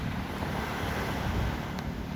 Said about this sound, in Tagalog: Sarap ang hangin.